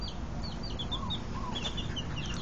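Baby chicks cheep in a yard, thin high peeps scattered through a steady background hiss, fairly faint and with no voices.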